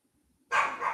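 A single sharp dog bark or yip bursts out of near silence, loud and close, then trails off over the last half second with no talk.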